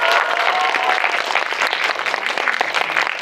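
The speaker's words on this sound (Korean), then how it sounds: "큰 박수 부탁드립니다" An audience at a film Q&A screening of "대가족" applauds as the director and actors take their seats, a full, continuous burst of clapping from a large crowd.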